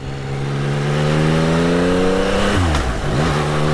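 A Yamaha XSR900 motorcycle engine revs hard up through the gears, its loud rising whine climbing steadily, then dropping briefly at a shift before climbing again, close and with no talk.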